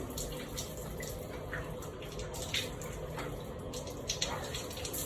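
Water runs from a hotel shower in a steady hiss of spray, with faint splashing and dripping and no clear talk over it.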